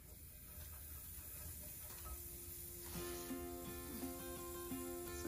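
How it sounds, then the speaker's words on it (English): Butter sizzling in a hot frying pan while making French toast, a steady soft hiss that swells slightly after a few seconds, with faint tonal hum running underneath. "And now we're going to add our butter."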